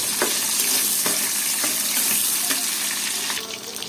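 Dried fish (shutki) fries in hot oil in a wok with a loud, dense, continuous sizzle, punctuated by several sharp scraping stirs of a spatula.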